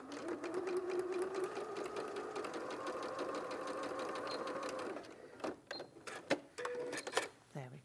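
A sewing machine stitches a straight seam with a steady, fast mechanical whir, then stops and gives a few short clicks and thumps. A person talks quietly over it.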